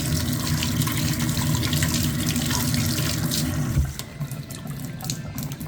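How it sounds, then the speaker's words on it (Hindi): A bunch of produce still on its stems is rinsed under a running kitchen tap, a steady, full rush of water splashing into the sink that cuts off abruptly near the end, close and alone. "आपने इसको टहनियों के साथ ही यूं ही धो लेना है बिना इसको उतारे"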